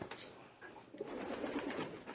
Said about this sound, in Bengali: এই কবুতরের নাম হচ্ছে রেসার, অরিজিনাল রেসার